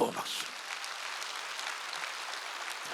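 A church congregation applauds during a Wednesday worship service, a faint, fairly steady patter of clapping that fades slightly and stays well back in the room.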